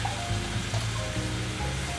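Garlic sautés in light-tasting olive oil, a steady close sizzle of frying with a continuous crackling hiss.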